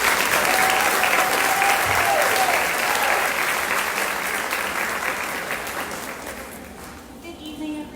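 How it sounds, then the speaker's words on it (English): An audience at a festival queen's contest gives a long round of applause, loud dense clapping that slowly fades over several seconds, with some faint voices near the end. "So I'd like to give her a big round of applause."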